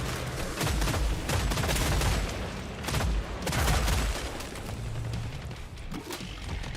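Rapid gunfire from the Killing Floor 3 video game, dense volleys of shots and blasts in loud bursts with short lulls, continuous chaotic firing throughout.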